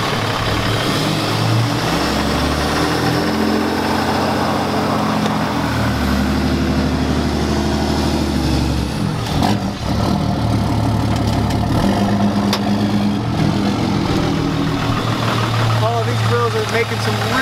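Lifted truck running on tiny car wheels, a loud, steady low engine drone with rough mechanical noise throughout and a voice talking over it.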